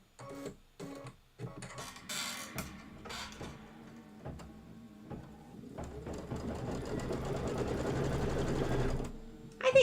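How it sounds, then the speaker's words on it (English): A domestic sewing machine stitches fabric in bursts: short separate runs of rapid needle clatter at first, then one long continuous run that grows louder toward the end. "Let's just stitch them all."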